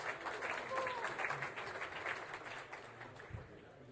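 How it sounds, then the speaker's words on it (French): Faint, moderate applause from the audience at a 2018 back-to-school speech event of a French departmental council ripples at a distance, with a few brief tonal sounds and low murmurs underneath. "Oui, on peut les applaudir un peu."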